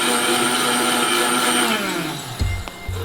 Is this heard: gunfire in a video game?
no